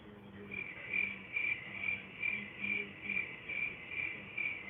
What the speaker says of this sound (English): Should I play the Crickets?